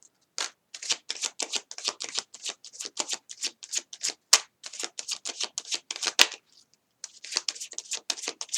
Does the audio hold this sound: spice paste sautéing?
no